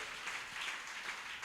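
Congregation clapping during a Sunday church worship service, a dense, steady wash of many hands filling the room evenly for the whole stretch, with no single claps standing out.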